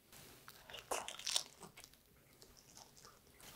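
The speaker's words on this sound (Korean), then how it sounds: "먼저 군만두를 먼저 먹어보도록 하겠습니다." Several crisp, crunchy bites into pan-fried dumplings dipped in soy sauce, close up, sharp crackles followed by softer chewing.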